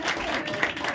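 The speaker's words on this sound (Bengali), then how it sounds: "হাততালি হাততালি সকলে হাততালি" An audience at an awards ceremony in a hall in Naihati applauds in a dense, continuous wash of clapping.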